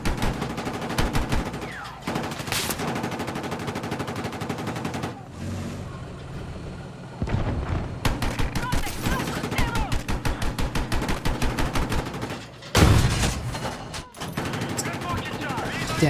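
Sniper gunfire and automatic weapon bursts in an online shooter game, in rapid rattling volleys with short pauses and a loud blast near the end, mixed with game noise.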